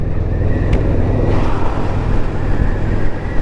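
A motorcycle with straight-pipe exhaust rumbles steadily and loudly close by, a continuous deep engine drone during a ride.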